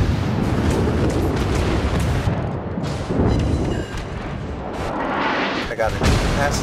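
Battleship gunfire in the naval combat game Warships, heavy booming shots and rumbling explosions over a constant roar of battle, with someone talking over part of it.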